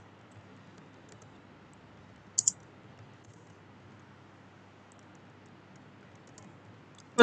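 A couple of quick, sharp clicks on an HP Omen 15 gaming laptop keyboard, a close double tap standing alone in near silence, then one more click right at the end.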